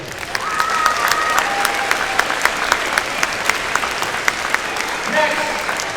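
Steady applause from a crowd at a robotics tournament's opening ceremony, with scattered sharp claps and some talk mixed into the clapping.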